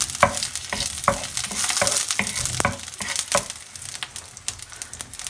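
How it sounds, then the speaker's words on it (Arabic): Halved garlic cloves sizzle and fry in oil in a pan while being stirred, with a steady crackling hiss and repeated sharp scraping strokes of a utensil, close and fairly loud with no talking. "نرميو فيها الثومة قطعتها على زوج، خليوها تاخد شوية تطلق شوية ريحة"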